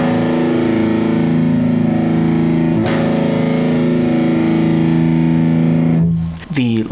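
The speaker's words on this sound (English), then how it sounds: "Now let's turn the gain, return the tone all the way down, and so we're going to see just how dark this gets." A Strich Super Riot distortion pedal with the gain turned up and the tone rolled fully down produces a thick, dark, sustained distorted guitar chord that rings loudly and steadily for about six seconds before choking off into a brief, fainter strum.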